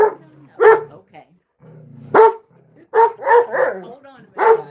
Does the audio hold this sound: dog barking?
yes